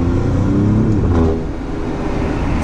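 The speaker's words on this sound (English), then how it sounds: "This car sounds so good for a V6." A twin-turbocharged 510-horsepower V6 car accelerates nearby on the road in Dubai, its loud engine note climbing then easing, with no voices.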